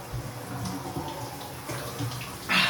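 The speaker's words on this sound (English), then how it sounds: "because I'm in the shower" Shower water runs steadily in a bathroom, a broad, even hiss of spray that stays close and constant, with a brief louder splash near the end and no speech.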